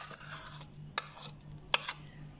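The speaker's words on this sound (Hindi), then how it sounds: "ये देखिए, मैं आपके सामने ये चने ऐड कर रही हूँ।" Boiled chickpeas tip into a fruit chaat bowl, giving a couple of short, soft clattering knocks against the dish over a quiet kitchen background.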